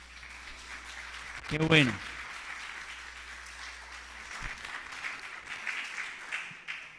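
Congregation applauding in a Spanish-language church service, a short soft burst of clapping under a voice, then murmuring and talk.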